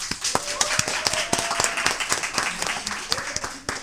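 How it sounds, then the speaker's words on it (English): A crowd at a live show applauds continuously, dense clapping with a few louder claps standing out, with voices mixed in underneath. "Give yourself some round of applause."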